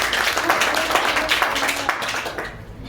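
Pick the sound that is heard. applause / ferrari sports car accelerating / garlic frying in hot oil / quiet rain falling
applause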